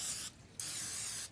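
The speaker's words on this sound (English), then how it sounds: "We're gonna hit these with a little bit of spray." Cooking spray hissing onto sandwich thin buns in two close, steady bursts separated by a short pause, the second burst longer, with no talking.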